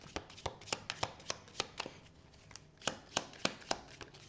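Tarot cards being shuffled by hand, a quick series of sharp papery riffles and snaps at close range, irregular bursts with a short pause in the middle, quiet and without talk.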